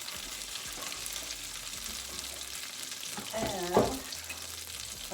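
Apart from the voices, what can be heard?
cod tongues frying in a pan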